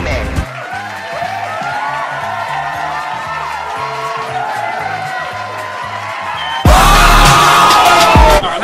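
Game-show style audience clapping and cheering in a gaming intro: a dense burst of applause and whoops about two seconds long near the end, following a musical jingle that plays under an energetic voice.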